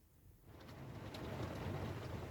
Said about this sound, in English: It appears to be raining.